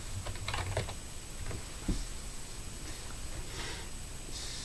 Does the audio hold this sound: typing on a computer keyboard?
yes